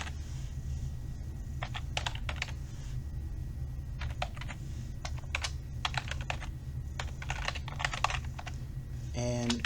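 Someone types on a computer keyboard in short clustered bursts of clicks over a steady low hum, with pauses between runs of keystrokes.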